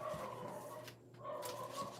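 An upset dog indoors whimpering and giving short yips and barks, faint and somewhat distant, in a few brief bursts with quiet gaps between.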